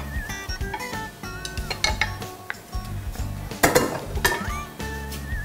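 Honey garlic pork ribs are plated onto a white plate, with irregular clinks, scrapes and taps of utensils against dishes and one sharper clatter near the end, close and moderately quiet, with no talking.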